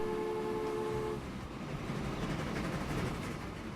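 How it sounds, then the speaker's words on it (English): A train in the Transport Fever video game sounds a brief horn tone that gives way to a continuous rolling rumble, fairly loud and steady. "that train in the back here"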